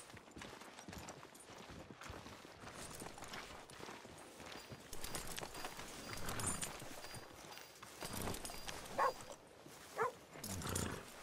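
Horse hooves clip-clop at a walking pace in Red Dead Redemption 2 on Xbox Series X. The steps are quiet and somewhat distant, mixed with occasional dog barks and ambient town noise.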